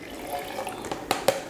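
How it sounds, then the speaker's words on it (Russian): About 150 ml of water is poured into a BSN True Mass protein shake, giving soft splashing and trickling with a couple of sharper splashes near the end, close by. "Так, добавляем 150 мл воды."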